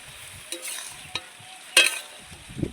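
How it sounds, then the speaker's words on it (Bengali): Spiced fried potatoes are stirred in a pan: a handful of sharp scrapes and clatters from the utensil over a soft, quiet sizzle, with one louder scrape in the middle. "যে আলু এগুলো বানিয়ে রেখেছিলাম সেগুলোকে এবার দিয়ে দিচ্ছি আমি দিয়ে একটু মশলাগুলোর সঙ্গে ভালো করে নাড়াচাড়া করে নেব"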